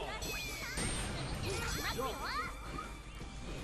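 A notification ding plays in the SNK Heroines fighting game, a short bright chime rising over dense game music, sound effects and chatter.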